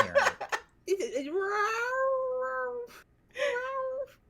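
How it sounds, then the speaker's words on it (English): A pet cat or husky lets out a long, drawn-out rising wail and then a shorter second cry in the background, with voices talking just before it. "It's one of the cats, or it's the husky, just in the background."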